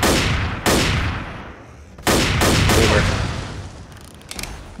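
Gunfire in the zombie shooter Left 4 Dead, heavy booming shots in quick bursts, loud and close, with rolling decay between volleys and a few lighter cracks at the end.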